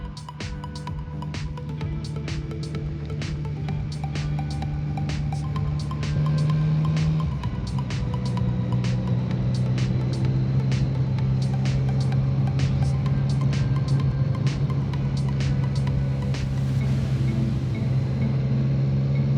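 A Yamaha XSR900 motorcycle rides along with a steady engine drone and a shift in engine pitch from a quickshifter gear change, heard over continuous road and wind rumble.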